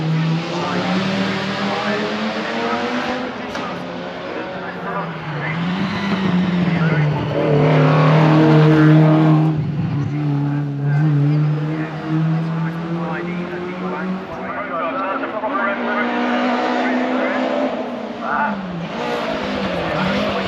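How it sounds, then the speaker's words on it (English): An Audi Quattro rally car climbs the Shelsley Walsh hill climb at a classic event. The engine revs hard through rising and falling gear changes at moderate distance, under continuous commentary. "And then we have the second Audi Quattro going up the hill."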